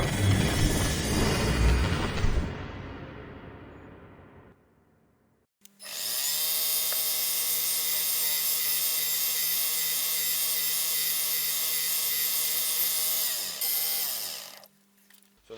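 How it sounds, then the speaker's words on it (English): A powered drill bores holes in a metal part for a DIY wobbler engine, a loud, steady whining run of about nine seconds after an earlier burst of machine noise winds down. "just ready now to drill a hole in there for the pin and then the two holes"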